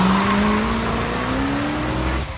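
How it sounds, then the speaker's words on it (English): A moving school bus rolls on with a loud, sustained engine roar and a rising tire squeal throughout, fading slightly at the end. "But the bus is still moving, man."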